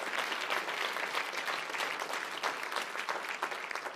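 An audience at a talk gives the volunteer staff a round of applause: dense, sustained clapping at an even level throughout, with no one speaking.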